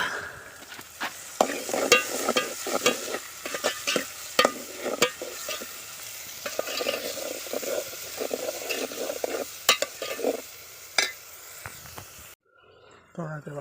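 Green garlic, onion, tomato and chili fry together in a pan, with a steady sizzle under repeated sharp clinks and scrapes of a spoon stirring, close and busy throughout, ending abruptly.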